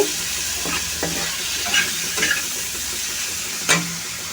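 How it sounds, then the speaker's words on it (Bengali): Spice paste with turmeric and chili powder being fried and stirred in a pan for a Bengali mustard puti fish dish: a steady sizzle with occasional scraping stir strokes, close and moderately loud, no talk. "ভালো করে মিশিয়ে এটা মশলাটা কষিয়ে নিচ্ছি"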